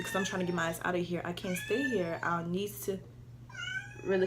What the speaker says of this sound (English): That was my cat. She was trying to get in my room.